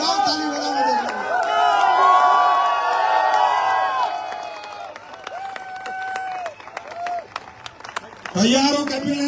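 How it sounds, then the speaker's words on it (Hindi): An audience at a company event claps and cheers, with sharp scattered claps running through loud overlapping voices and shouting that carry across the whole stretch. "बजाओ ताली बजाओ"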